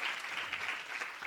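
Audience applause at a felicitation and introduction function, a steady wash of many hands clapping together, moderately loud and continuous through the short moment with no talk over it.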